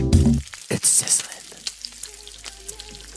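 A short sizzle sound effect, a crackling hiss of frying after a burst of louder tones, fading into a faint spitting crackle with scattered pops.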